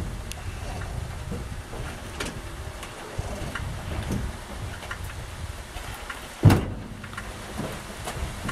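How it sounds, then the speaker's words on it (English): Steady rain patter and wind buffeting outdoors while a 5.9 Magnum engine project sits in the weather, a broadband wash throughout with one sharp louder thump near the end. "It's raining."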